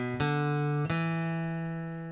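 A short melodic acoustic guitar lick from a song, played up close as two plucked attacks whose open-string notes ring out and slowly decay, with no talking.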